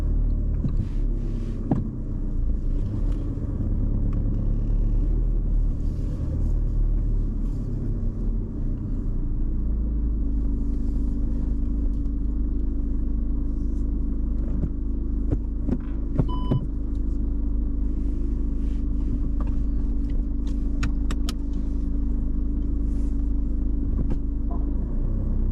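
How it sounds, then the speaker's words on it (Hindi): A car on a UK driving test route rumbles along at low speed while reverse bay parking, a steady close engine and road drone that holds for the whole stretch with small bumps and clicks. "आगे गाड़ी को सीधा कर लो फिर से"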